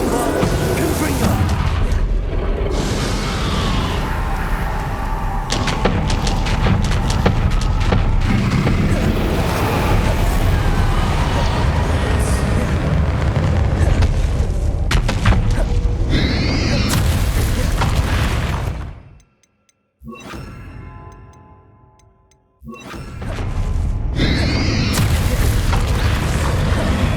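Repeated booming spell blasts from Confringo fire in Hogwarts Legacy combat, loud bursts and crackling debris one after another, dropping briefly to near silence before the explosions resume.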